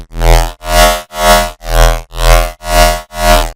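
Riddim-style wavetable synth bass pulsing in a steady LFO rhythm, about seven loud evenly spaced throbs with a deep sustained low end and bright buzzy harmonics, heard alone without talk.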